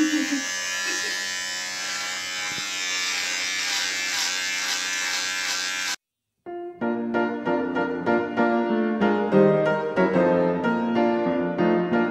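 An electric razor shaves a man's beard in a home bathroom, giving a steady, close buzz that runs unbroken for several seconds before music takes over.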